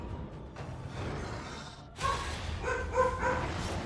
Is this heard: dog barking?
yes